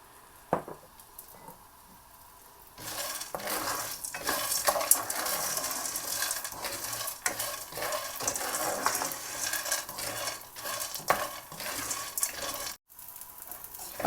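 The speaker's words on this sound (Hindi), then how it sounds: "इसमें जो हमने गोंद ली है ये डाल के इसको फ्राई करेंगे" Edible gum (gond) fries in ghee in a kadhai, a broad hissing sizzle that swells after a quiet start, with occasional stirring scrapes and a brief dropout near the end.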